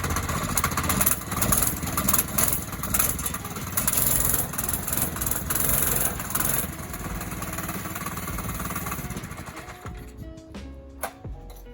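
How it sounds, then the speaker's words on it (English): A Baja Doodle Bug 97cc minibike engine runs with a loud, steady, buzzing small-engine drone that rises and falls, then dies away into quieter clunks near the end. "I'll show you that it starts up like first, second pull."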